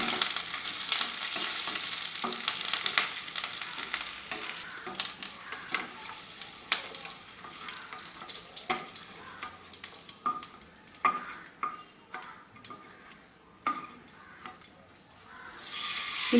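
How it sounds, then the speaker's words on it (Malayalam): Curry leaves and green chillies fry in coconut oil with a dense, steady sizzle, stirred now and then so that close scraping clicks punctuate the hiss throughout. "ഇത് നമുക്കൊന്ന് വറുത്ത് ആദ്യം മാറ്റുകയാണ് ചെയ്യേണ്ടത്."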